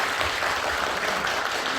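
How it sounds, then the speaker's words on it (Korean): Audience applause at a political talk concert on the Korean Peninsula after the US presidential election, a sustained, even wash of many hands clapping, loud and continuous throughout without speech. "큰 박수 좀 보내주시죠."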